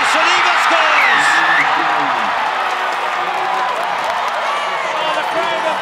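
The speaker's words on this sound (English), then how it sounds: "Oh, the crowd have gone absolutely crazy." Loud, dense stadium crowd roaring and cheering without letup after a try in a USA Sevens rugby cup final between New Zealand and Samoa at the Las Vegas stadium, with whoops rising over the din.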